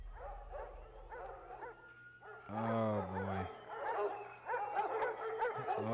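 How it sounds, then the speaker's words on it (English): Dogs barking and yelping in the sci-fi horror video game Observer, a loud bark burst in the middle amid tense game sounds, with a person briefly speaking. "I need to run. There's dogs."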